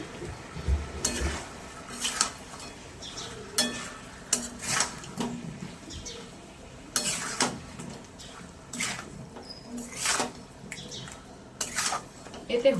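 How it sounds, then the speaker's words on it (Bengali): Chicken tehari is sautéed on low heat in a pan, with a spoon stirring and clanking against the metal in irregular bursts over a soft background sizzle. The sound is close and fairly quiet. "এবার কম আঁচে ভালো করে কষতে হবে।"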